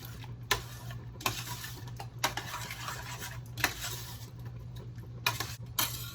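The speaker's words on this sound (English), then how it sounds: "We're going to mix all that around" A spoon stirs tomato sauce sweetened with a little sugar in a pot for lasagna, giving repeated scraping swishes and soft clinks against the pot at an uneven rhythm, close by over a low steady hum, with no voices.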